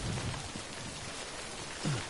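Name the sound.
rain in the video game Death Stranding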